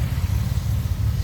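A 1972 Datsun 240Z's 2.4-liter single overhead cam six with dual carbs and electronic ignition idles smoothly and steadily, a close, even low rumble.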